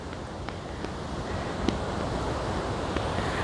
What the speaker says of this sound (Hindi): डैम के दूसरी तरफ देखेंगे तो आप पानी का बहाव कुछ इस तरह देखेंगे।